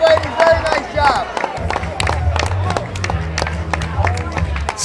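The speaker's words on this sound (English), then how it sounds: "Standing ovations for these women coming around the whole crowd." Crowd at a women's fight event applauds and claps in a standing ovation, with sharp scattered claps over a low murmur while commentators talk throughout.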